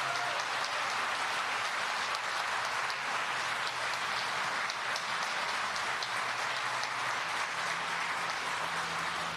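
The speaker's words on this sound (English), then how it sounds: "let's give our incredible governor a round of applause" Steady applause for the governor at a university medical education building groundbreaking, a crowd clapping continuously and evenly for several seconds with no voices over it.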